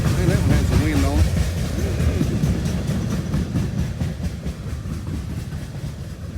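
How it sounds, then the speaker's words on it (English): Long freight train rolling past close by on the tracks at night on a raccoon hunt, a loud, steady rumble with rhythmic clickety-clack of wagons over rail joints and gusts of wind, while people talk briefly near the start. "It's the world's longest train, I guess."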